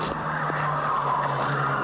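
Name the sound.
Volkswagen Polo G40 race car skidding off track in slippery conditions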